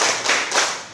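A class of students claps in unison, about three sharp group claps in quick succession, loud and close, with no voices over them.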